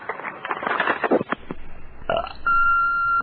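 A single long, loud burp rumbling for over a second, followed by a short electronic beep and a sustained tone.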